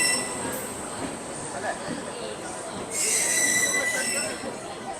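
Chennai Duronto Express pulling into a station platform, with a steady rumble of rolling wheels and a sharp high wheel squeal rising toward the end, under nearby voices.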